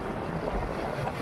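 Steady low rumbling buffeting of strong wind on a microphone, constant and loud throughout with no voices, in Bangued, Abra.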